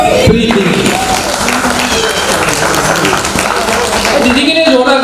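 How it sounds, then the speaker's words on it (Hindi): Applause for the bride's sister at a sangeet ceremony, a dense, steady wash of clapping lasting throughout with crowd noise and music mixed in under it. "दीदी के लिए जोरदार तालियां प्लीज, जोरदार"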